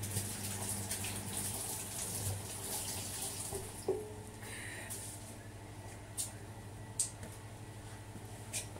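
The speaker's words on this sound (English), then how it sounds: "Let me wash my hands." Running water from a small kitchen tap pours steadily as hands are washed beneath it, a constant close gush with occasional splashes and light knocks.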